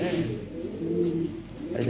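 Low, rolling coos of fancy pigeons for sale fill the moment, close and continuous, with a voice faintly mixed in underneath.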